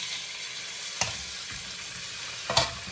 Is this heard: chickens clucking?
no